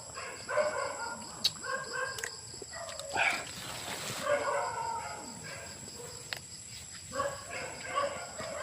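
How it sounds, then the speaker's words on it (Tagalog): Several dogs bark outdoors at night in a rural Philippine setting, with a rooster crowing now and then; the barks come in scattered bursts at moderate distance over a steady insect drone. "Ayan, tatahulan yung mga aso."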